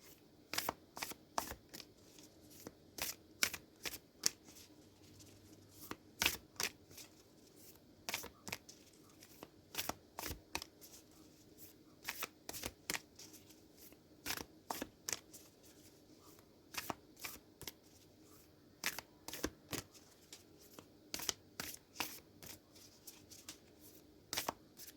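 Tarot cards shuffled by hand, a quiet, steady run of crisp riffling snaps and flutters repeating for a long stretch with almost no talk.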